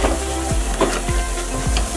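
Spice paste for a fish curry sizzles in a clay pot, a steady close frying hiss broken by rhythmic stirring scrapes about every half second.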